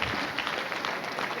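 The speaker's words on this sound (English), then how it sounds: "Let's give a round of applause" Applause from an audience at Jack Ma's Kenya event, a short, even burst of crowd clapping, moderately loud and heard alone without voices.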